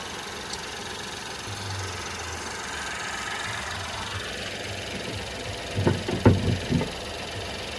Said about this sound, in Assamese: মই আপোনাক ইঞ্জিনৰ চাউণ্ডটো শুনাই দি আছোঁ, কি কণ্ডিশ্যনত আছে